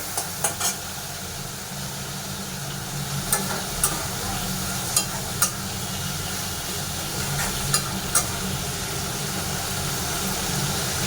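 Fish curry with pointed gourd and tomato cooking in a small home kitchen, a steady low sizzle and bubbling hum throughout with a few sharp utensil clinks scattered over it.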